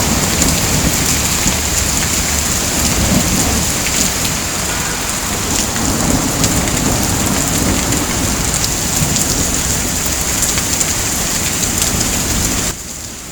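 Heavy unseasonal rain pours down in a steady, loud roar on surfaces, with faint rumbles of thunder beneath; no voices, and the downpour continues unbroken until a slight drop at the very end.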